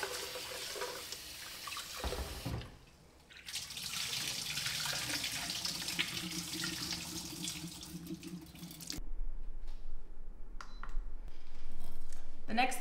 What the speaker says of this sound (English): I'm gonna put 4 cups of water